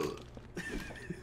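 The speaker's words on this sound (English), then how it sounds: "Burping monster with a pipe." A pipe-carrying monster in the hospital area of the video game Silent Hill 4: The Room lets out a brief, low, guttural burp over a murky background hum.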